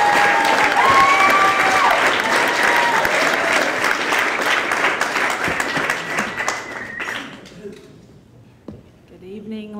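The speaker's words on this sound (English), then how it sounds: "Make some noise, get excited for Jillian Deane, everybody." A comedy club audience applauds loudly for a stand-up comedian, with scattered cheers and whoops, the clapping sustained for several seconds before thinning out and fading.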